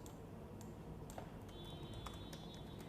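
Quiet typing on a computer keyboard, with sparse, irregular soft key clicks over a faint steady background hum and no voices.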